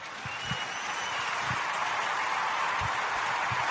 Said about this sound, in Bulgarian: Бурни и силни аплодисменти за роботът